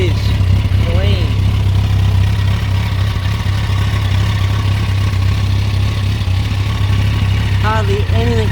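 A 2009 Yamaha FZ1n motorcycle engine idles loudly and steadily up close, a deep even rumble throughout, with someone speaking briefly over it near the start and end.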